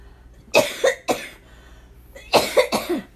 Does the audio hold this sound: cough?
yes